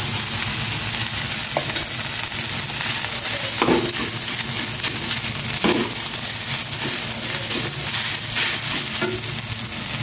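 Garlic and rice fry loudly in a hot pan, a steady dense sizzle with occasional scraping stirs and crackles, close and continuous with no talking.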